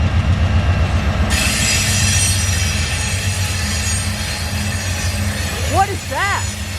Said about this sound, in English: That's a tunnel motor.